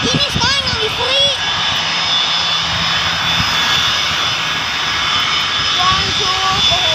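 An Indonesian military TNI aircraft takes off at Husein Sastranegara airport in Bandung. Its engines give a loud, steady roar close by, and people talk over the noise.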